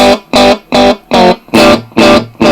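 Electric guitar played through a 1980s Japanese Maxon DD01 analog-voiced digital delay pedal with the delay set mid-range, seven strummed chords in steady rhythm, each ringing with a short echo tail, loud and alone.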